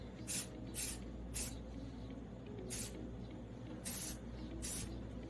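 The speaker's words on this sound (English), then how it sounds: "This paint with primer lays down so thick on the first coat" Aerosol can of spray paint with primer applied to a Suzuki Samurai rocker panel, six short hissing bursts at an even rhythm, close, over a steady low background hum.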